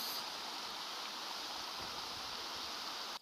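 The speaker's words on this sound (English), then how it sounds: "These are the Lake Ngakoro waterfalls." Waterfalls at Lake Ngakoro in the Wai-o-tapu geothermal park pour with a steady, broad rush of water, close and constant throughout before cutting off abruptly at the end.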